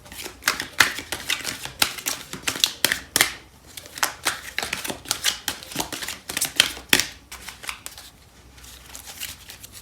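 Cards from a Fairy Tarot deck are shuffled and drawn, giving a steady run of crisp, close papery flicks and snaps in quick irregular bursts, with short pauses and no talking.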